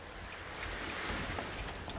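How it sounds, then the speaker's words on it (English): Steady broadband wash of water and waves in the video game Dead Island Riptide, a continuous close surf-like rush that swells slightly midway, with no talking. "Nice sound of the water."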